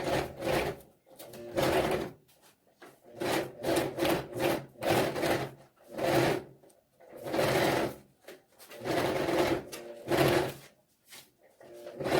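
A sewing machine stitches a seam one centimetre in from the fabric edge in a workshop making low-cost mobility equipment for children, running in repeated whirring bursts of a second or so with short pauses between them, close and clear.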